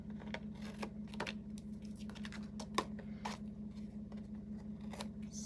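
Scissors snip through a paper tag in quick, crisp cuts scattered over a faint steady hum, quiet and close.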